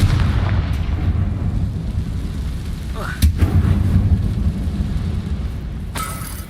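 A Confringo blasting spell goes off in Hogwarts Legacy as a single sharp boom about midway, followed by a rolling low rumble. It sits over a steady background drone of game ambience, fairly loud and close.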